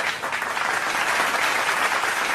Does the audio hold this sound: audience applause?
yes